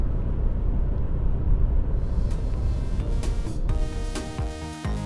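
A 2020 Hyundai i10 driven fast over an uneven cobblestone street, giving a loud, steady broadband road rumble and tyre drone that continues throughout without pause.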